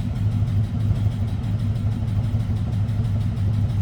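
A 1964 Pontiac GTO engine idles steadily, a low, even rumble with a slight pulsing throb, close by and continuous with no voices; possible exhaust leak.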